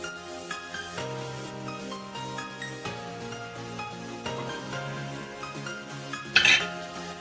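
Plain cooked dal with chili powder is stirred in a metal pot, with repeated scraping and clinking of a spoon against the pot under a backdrop of tonal background music, and a louder clatter near the end.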